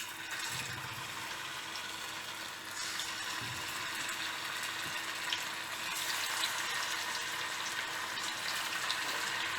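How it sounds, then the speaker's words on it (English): Hot oil sizzles and crackles steadily as fish deep-fries, a broad hissing sputter that swells slightly midway and continues without talk. "Deep fry them, but here some people don't like to deep fry."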